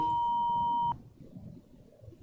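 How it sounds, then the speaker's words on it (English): A Concorde cockpit warning alarm in the FlightGear flight simulator sounds as a steady, loud electronic tone for about a second, then cuts off abruptly, leaving low background rumble. "That activates some warning lights and some alarm."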